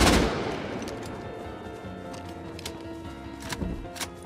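Rapid bursts of automatic gunfire crackle in the survival game Rust during a clan raid, a dense fusillade of sharp shots that keeps going throughout, moderately loud and without clear talk.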